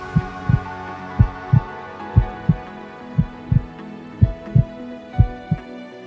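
A heartbeat sound effect thumps steadily in paired lub-dub beats, loud and close, over a soft sustained musical hum.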